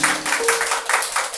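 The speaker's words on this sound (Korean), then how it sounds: "성도님 박수 부탁드리겠습니다." A Korean church congregation applauding during a baptism certificate presentation: a brief burst of many hands clapping in a quick, uneven rhythm, fairly close and lively.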